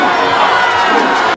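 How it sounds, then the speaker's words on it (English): Podrace crowd in Star Wars: The Phantom Menace cheering and roaring, a loud dense burst of shouting that holds steady and then cuts off abruptly. "The crowds are going nuts."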